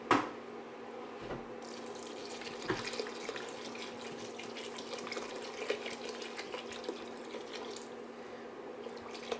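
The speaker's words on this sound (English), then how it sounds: "I'm gonna go ahead and add some water now, just to kind of like cook down the potatoes a bit." Water runs steadily from a tap into a cooking pot of potatoes for soup, a continuous moderate splashing stream lasting several seconds with no voices.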